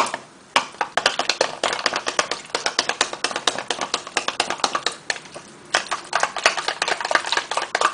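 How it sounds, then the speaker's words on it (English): Skin and hair oils are whisked together for an oil custard, giving a rapid run of light, sharp clicking taps close by, steady and rhythmic with brief pauses. "I'm just going to give that a little bit of a mix"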